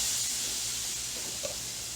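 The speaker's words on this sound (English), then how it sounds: "the first thing I'm going to cook is my shrimp" Marinated shrimp sizzle in hot vegetable oil while cooking for pad thai, a steady bright hiss that carries evenly throughout, close and fairly quiet, with a small pop near the end.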